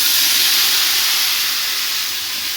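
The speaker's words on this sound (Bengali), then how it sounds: "এই যে আমি পেঁয়াজ আর রসুন তেলে ভেজে নিচ্ছি, বাগার দেবো" Onion and garlic fry in hot oil for a dal tempering, a loud, close, even sizzle that holds steady and fades slightly toward the end, with no talking.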